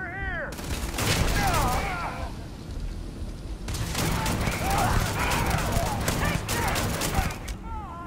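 Rapid gunfire in the video game Starfield, bursts of loud close shots in two clusters with a lull between, over a steady game background.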